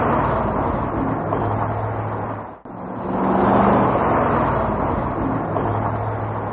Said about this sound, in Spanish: Tráfico urbano